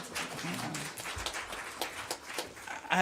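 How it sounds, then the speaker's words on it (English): Scattered clapping from an audience at a school district board meeting, moderately loud and continuous for a few seconds, with a murmur of voices mixed in. "So that we can clap for that too."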